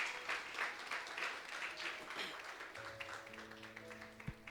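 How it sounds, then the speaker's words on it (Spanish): Applause from a church congregation, a moderately loud patter of many hands that gradually fades while a low electronic hum and a soft organ-like tone enter underneath. "Honremos a Dios con un aplauso"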